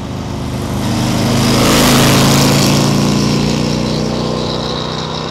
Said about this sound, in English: It's got dual exhaust and puts out one of the sweetest exhaust notes